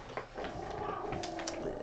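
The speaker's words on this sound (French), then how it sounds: "ce sont les bébés chiens qui soudainement ont faim." Hungry puppies growling and whimpering nearby, a soft run of low grumbles and thin high whines over a steady background hum, fairly quiet and continuous with no talking.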